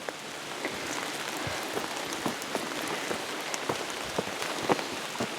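Steady rain patters on a surface at Troublesome Creek in Denali State Park, Alaska, with scattered louder drops tapping irregularly over a continuous hiss; no voices.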